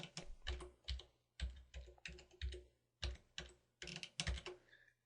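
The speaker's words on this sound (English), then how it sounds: "What you need to do is you need to type in the following." Fingers type on a computer keyboard in quick bursts of clacking keystrokes, separated by short pauses, close and clear with no talking.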